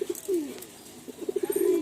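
A pigeon coos close by in a short soft bout, a low throaty call followed by a quick string of pulsing coos.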